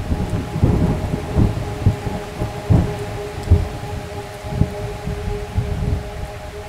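A movie-trailer thunderstorm: steady heavy rain with repeated loud, close rumbles and cracks of thunder, over a sustained low tonal drone.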